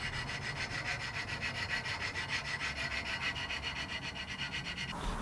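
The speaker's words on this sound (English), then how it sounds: "I'm going to finalize that fit with these sanding sticks" Sanding sticks rasp back and forth against a wooden router template in a steady, continuous rhythm, close and alone with no talking.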